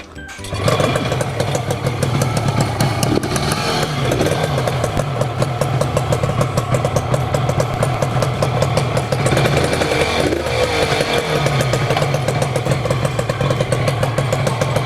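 A Yamaha TZR250 1KT motorcycle engine converted to air cooling runs loud and close, its rapid, rough two-stroke beat steady throughout with small swells in revs.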